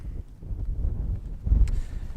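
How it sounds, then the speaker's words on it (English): Strong wind in the Peak District buffets the microphone in low rumbling gusts, swelling and fading without any other clear sounds. "as you can probably hear and see based on my hair, it is still very windy"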